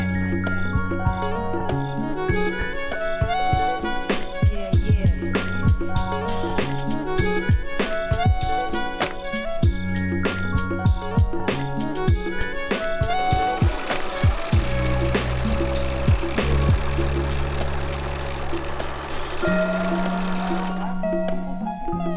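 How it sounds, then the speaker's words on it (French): A sewing machine stitching new seam lines on a sleeveless top, a loud, close mechanical whir with rapid needle clatter in several runs that start, stop and change speed, with no talk. "je vais refaire une couture sur les nouvelles lignes"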